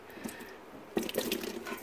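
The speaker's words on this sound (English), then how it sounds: "I'm going to put them right in the water" Potatoes are lowered into the water inside an Instant Pot: a quiet moment, then a cluster of soft, close splashes and drips that continue in short bursts.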